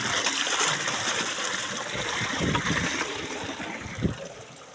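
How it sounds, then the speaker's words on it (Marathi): Hot fresh water flowing outdoors in a village, a continuous near rush and trickle with occasional splashes, fairly loud and without talk. "इथलं बाहेर पाणी एकदम गरम पाणी,"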